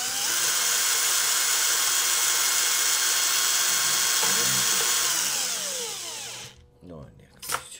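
A small electric screwdriver whirs steadily as it winds strings onto a guitar's tuning pegs, a continuous high motorized drone for several seconds that pitches down and cuts off, followed by brief handling clicks.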